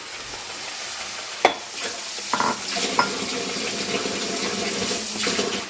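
Spice paste mixed with yogurt added to lightly browned fried onions in a pan while cooking fenugreek chicken, giving a steady close sizzle with a few sharp scraping and stirring clatters.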